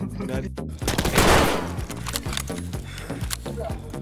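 Rapid bursts of automatic gunfire crackle in a video game firefight, sharp repeated shots in a fast rhythm up close, with a loud blast in the middle, while players talk over it.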